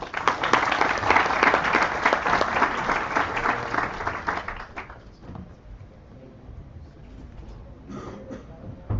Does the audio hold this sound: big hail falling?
no